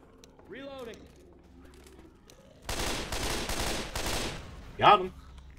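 Rapid bursts of gunfire in Left 4 Dead 2, shooting zombies on The Passing campaign, loud and dense for several seconds, with brief speech before and a short cry after.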